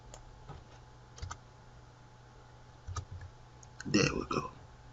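Computer mouse clicks and keyboard taps at a desk, scattered quiet single clicks followed by a short burst of several quick keystrokes near the end, under faint speech.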